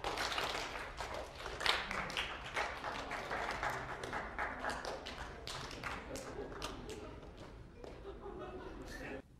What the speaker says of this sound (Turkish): İki resim arasındaki farkı gördüğünüzde alkışlayın